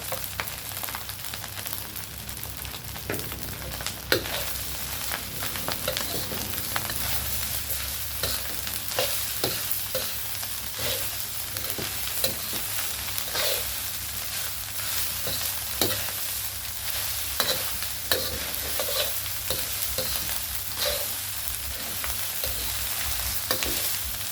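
Onion is stir-fried in a hot iron wok for Thai fried rice with fermented pork, a continuous loud sizzle broken by repeated scraping and clacking strokes of the spatula against the metal.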